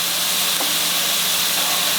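Tomatoes fry in a pan, a steady close sizzle and hiss that holds evenly throughout, with no talking.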